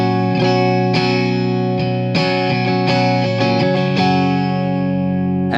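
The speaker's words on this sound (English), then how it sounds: "It's a clean guitar amp." Clean electric guitar strums through a BluGuitar Amp 1 on its clean channel ring out with sustained chords and a touch of reverb, playing continuously and fairly loud with no talking.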